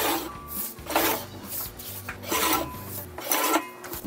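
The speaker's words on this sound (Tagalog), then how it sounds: "So gagamit tayo guys ng sliding cutter." A sliding cutter trims laminated car magnet prints in a print shop, giving repeated rasping strokes, close and fairly loud, over a low background hum with music.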